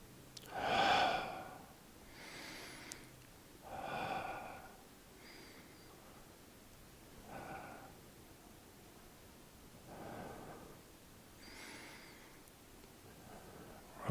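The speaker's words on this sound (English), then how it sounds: "Breathing in, breathing out," Deep, slow breaths during qigong practice, audible inhales and exhales spaced a few seconds apart, soft and close, gradually quieter after a stronger first breath.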